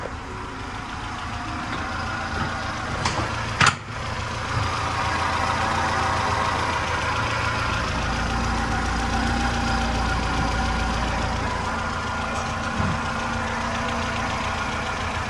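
A car engine idling in a repair shop in Brazil, a steady, fairly loud mid-pitched rumble running throughout, with one sharp clack early on and no talking.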